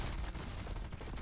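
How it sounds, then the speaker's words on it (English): Fortnite gunfire with shell casings clattering on the ground, a short, dense burst of rapid shots and metallic tinkling, moderately loud and continuous without any talking. "The sound of the shells hitting the ground is louder."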